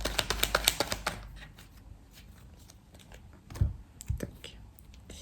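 Tarot cards being cut and shuffled for a November reading, a quick burst of crisp riffling clicks followed by a few softer card taps and slaps, close and alone.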